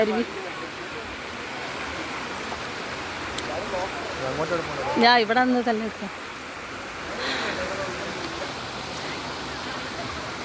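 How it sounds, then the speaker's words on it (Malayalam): A flowing stream at Kallar dam gives a steady wash of running water throughout, with people talking over it in the middle. "അരുവി"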